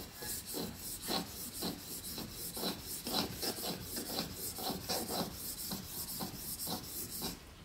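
Shears are sharpened against the stone of a sharpening machine, making a steady rhythmic rasping grind, roughly two strokes per second, fairly quiet and continuous with no talk.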